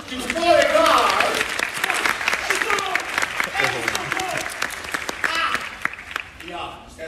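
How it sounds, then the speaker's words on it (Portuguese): A theatre audience at a live performance of the stage musical Charlie, o Musical breaks into loud, sustained applause, dense clapping that swells early and slowly tapers over several seconds. "Aplausos para o senhor Sal"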